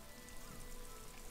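Steady rain falls in the video game Disco Elysium, a soft continuous hiss of drops hitting surfaces, faint and even throughout with no voices.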